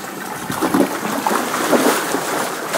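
Steady rushing river water flows near a waterfall in Bali with a broad, constant wash and small splashes, moderately loud with no voices.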